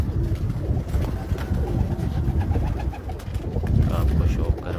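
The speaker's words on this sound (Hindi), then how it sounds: "परवाज़ी कबूतरी हैं" Flying pigeons on a rooftop in Hafizabad coo continuously amid a noisy outdoor background, the calls steady and moderately close.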